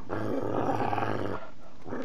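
A dog in the Fallout 3 video game gives a low, rough, sustained growl, loud and close, cutting off briefly before resuming.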